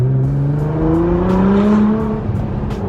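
A Toyota Supra engine revs and climbs in pitch, loud and close, with a rising whine and steady throaty roar throughout.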